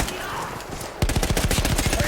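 A mounted machine gun fires in the WWI shooter Battlefield 1 during an Italian mountain mission. After a second of muffled battlefield noise, a sharp, loud string of rapid, evenly spaced shots rattles on without pause.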